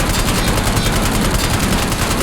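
The PP919 submachine gun fires in Warzone for Black Ops 6, a loud, rapid, unbroken stream of gunshots filling the whole stretch without pause or voices.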